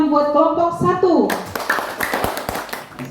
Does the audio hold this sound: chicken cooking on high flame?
no